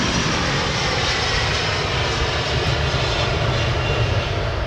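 Jet airliner engines roar at London Heathrow Airport, a loud, steady, broadband thrust sound with a deep rumble that stays constant throughout, close by and with no talk.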